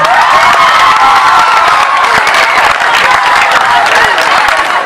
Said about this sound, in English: Let me be sure those who are clapping.